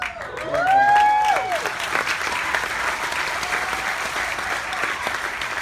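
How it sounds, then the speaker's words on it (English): Large audience applause at a corporate general session, steady dense clapping with a whistle and cheer near the start, then continuing evenly at a moderate level. "You clap"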